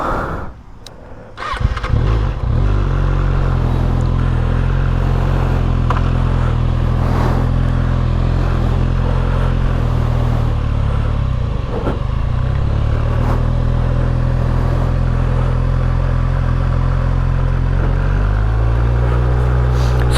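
A supersport motorcycle engine fires up and holds a steady, loud, close rumble that swells and dips slightly as the throttle is worked. No one talks over it.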